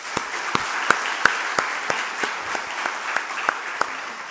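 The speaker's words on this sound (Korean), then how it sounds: "우리 찬양대 위에서도 박수 한번 합시다" A church congregation applauds during a dedication and ordination service, with steady, sustained clapping at an even level and sharp individual claps standing out near the front.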